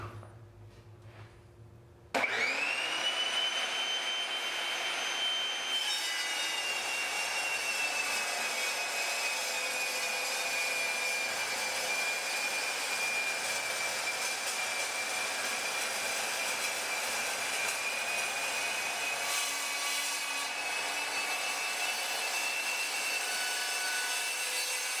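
A Fein Slugger 9-inch metal cutting saw starts abruptly and bites through 1/2 inch steel plate, a loud sustained high-pitched whine with grinding rasp held steady for over twenty seconds, close up and alone.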